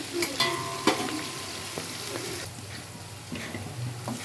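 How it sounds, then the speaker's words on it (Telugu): Onions fry in a pan while a spoon stirs them, giving a steady close sizzle broken by a few sharp scrapes and clinks of the utensil. "ఇలాగా ఉల్లిపాయను కూడా ఒకసారి కలుపుకున్నాము"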